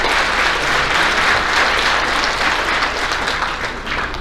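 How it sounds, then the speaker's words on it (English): Guests at a high school athletic banquet applaud themselves in a hall, a full, steady round of clapping that stays loud and eases slightly toward the end. "Please give yourselves a round of applause."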